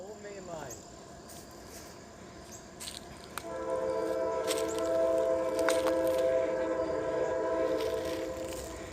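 A CSX freight train on the old main line rolls in with a sustained, droning horn over rumbling rail noise, growing louder as it nears, with no talking in the moment.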